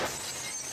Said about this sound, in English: they hear a crashing sound like broken glass